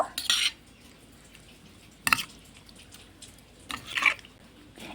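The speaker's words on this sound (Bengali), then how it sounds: "এবার আমি মাছের তেলের মধ্যে দিয়ে দেব হলুদ আর দিয়ে দেব লবণ এবার লবণ হলুদটা মেখে নেব" Fish fat in a bowl is mixed with turmeric and salt, heard as three short bursts of wet squelching and scraping separated by quiet pauses, close and moderately loud.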